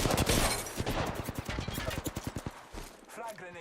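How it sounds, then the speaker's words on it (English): Rapid bursts of gunfire in a video game, a fast run of sharp evenly spaced shots over about two seconds amid busy game sound and a steady voice talking. "Stop, I'm getting shot at."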